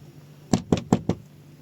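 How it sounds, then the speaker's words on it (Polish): Four quick, evenly spaced knocks on a door sound close by against a quiet room background, during a truck driver's weekend off in Sweden. "Czekaj, ktoś puka."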